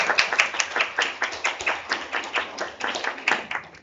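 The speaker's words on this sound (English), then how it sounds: "another round of applause to all the second year students for their hard work with a very difficult topic" Applause for second-year students at a school English speech contest, sparse, crisp clapping from a small group in an uneven rhythm, close and fairly loud, lasting a few seconds with no talking.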